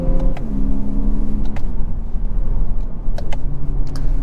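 The hybrid engine of a 2023 Lexus UX250h AWD drones as the car accelerates, a steady low cabin rumble with a rising tone near 5,000 RPM, heard from inside with brief clicks.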